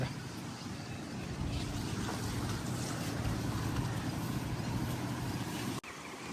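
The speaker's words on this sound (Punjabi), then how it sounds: "ਹਵਾ ਚੱਲ ਰਹੀ ਅੱਜ" Steady, loud wind rushes and buffets continuously with a low rumble, broken by a brief dropout near the end; no voices.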